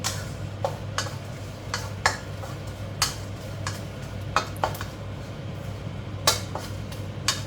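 Spatula clicking and scraping against a pan while dry-roasting chilies, shallots, garlic, galangal and lemongrass for fried tilapia larb, with sharp intermittent taps over a low steady background hum.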